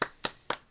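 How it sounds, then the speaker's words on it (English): Three sharp hand claps spaced evenly apart, close and distinct, with quiet gaps between them. "Everyone, give him a round of applause."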